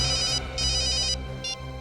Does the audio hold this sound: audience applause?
no